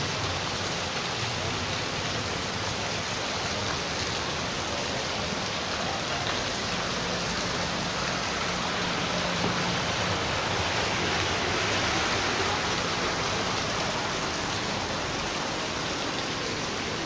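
Heavy morning rain pours down on Lahore amid flooding, a loud, dense, unbroken hiss of downpour that holds steady throughout with no voices.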